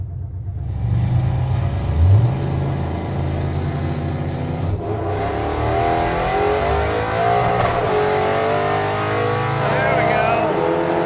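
A nitrous-equipped muscle truck launching down a drag strip, a loud rumbling engine that revs up and pulls hard as the pitch climbs, with voices talking over it.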